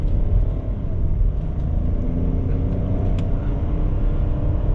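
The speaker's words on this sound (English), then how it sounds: "You can definitely hear some of the whistling sounds from the engine, from the turbo, the blow-up valve, and of course the engine sounds" A 2021 Ford Bronco Sport Big Bend with a 1.5L three-cylinder turbo engine drives along, giving a loud, steady low rumble of engine and road noise heard from inside the cabin, with no talk.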